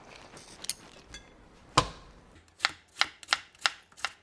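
Apples are chopped on a cutting board: a sharp knife strike, then a quick run of five or six crisp, evenly spaced chops, close and clear with nobody talking.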